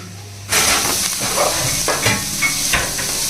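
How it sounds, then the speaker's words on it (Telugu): Onions frying in a hot pan for a home-style Godavari meal, a steady close sizzle that begins abruptly after half a second, with occasional stirring scrapes and small bursts through the rest. "ముందుగా ఇలా ఉల్లిపాయలు వేపుకోవాలండి"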